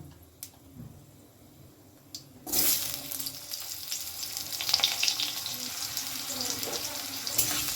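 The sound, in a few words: cut potatoes frying in spiced oil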